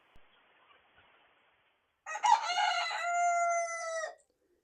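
A rooster crows loudly and close by near an automated chicken coop door in the morning, one long harmonic call after a stretch of faint background noise and a brief soft cluck.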